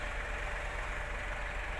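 A T5060 farm tractor engine idles out in a field, giving a steady low rumble with a constant hiss and no variation over a brief moment.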